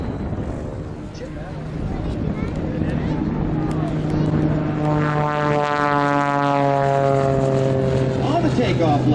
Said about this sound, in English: On the takeoff leg from Stanton, Texas, folks, that is Jerod Flohr